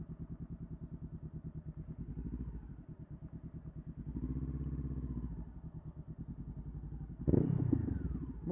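Motorcycle engine surging as the throttle is opened, a pulsing rumble that swells in waves and ends in a sharper, louder burst.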